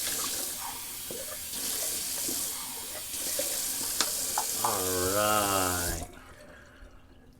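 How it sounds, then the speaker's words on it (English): A bathroom sink tap runs steadily to rinse shaved whiskers out of the basin, a loud continuous gush that ends abruptly near the end, with a brief spoken word over it. "Just gonna rinse out a little bit because there's some whiskers floating around"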